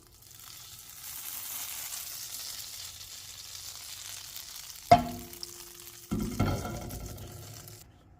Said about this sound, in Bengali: স্ক্রাম্বল এগে আমরা এমনি এটাকে ঘুরিয়ে দেব